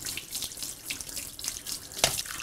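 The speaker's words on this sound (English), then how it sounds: "And then a little bit of hot water from the sink." Hot water runs from a kitchen sink tap in a steady, moderately close splashing stream, broken by a few brief surges and one sharper splash near the end. Nobody speaks.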